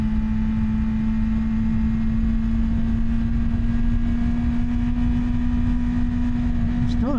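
A 2024 BMW S1000RR sportbike engine holds a loud, steady high-rev drone in first gear throughout, with wind noise, and the pitch wobbles upward in the final moment.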